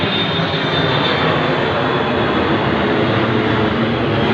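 Airplane engine roaring steadily overhead on the day before New Year's Eve, a loud, continuous broadband drone with no voices.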